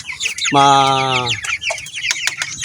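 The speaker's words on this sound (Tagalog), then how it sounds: "yung aking mga naiwan na manok" Broiler chickens cluck close by, one giving a long harmonic squawk followed by a flurry of short, choppy clucks from the flock.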